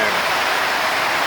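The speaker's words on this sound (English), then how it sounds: "I think it might be raining." Rain falls over a backyard where a ZK Ford Fairlane project car is being worked on, a loud, steady broadband hiss of drops on surfaces with no breaks.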